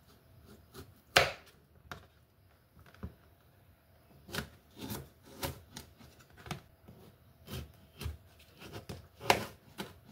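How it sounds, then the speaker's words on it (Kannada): A knife cuts a cucumber on a board for a Korean spicy cucumber side dish, giving a run of crisp, close chopping taps at an irregular pace with brief pauses between strokes and no talk. "ಒಂದು ಕುಕುಂಬರ್ ತೊಗೊಳ್ದು ಸೊ ಅದನ್ನ ಕಟ್ ಮಾಡಬೇಕು"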